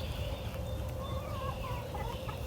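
Chickens cluck and murmur continuously on a small backyard farm, several birds close by over a constant outdoor hiss with no voices.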